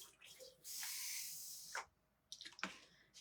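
Water sprays onto a screen-printing screen to rinse the paste out, a few hissing bursts of spray, the longest lasting about a second, separated by quiet pauses, fairly faint.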